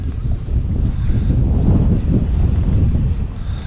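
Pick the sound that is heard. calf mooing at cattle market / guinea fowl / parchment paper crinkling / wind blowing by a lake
wind blowing by a lake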